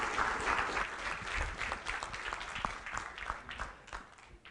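An audience at a tech talk applauds the speaker, a steady patter of many hands clapping at moderate distance, fading slightly toward the end.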